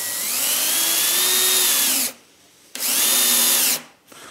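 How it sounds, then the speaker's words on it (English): A power drill whirs in two sustained bursts as screws are driven into wood without pre-drilling, its pitch rising slightly as each drives in, with a brief quiet pause between runs. "And that screw goes in very easily."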